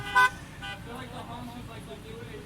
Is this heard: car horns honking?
yes